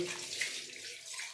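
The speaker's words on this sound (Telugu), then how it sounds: "ఇప్పుడు పాలు పోసేది పోసి" Milk poured into cooled payasam in a cooking pan, heard as a soft, steady liquid stream with a faint splashing texture running close and quietly throughout, with no talking.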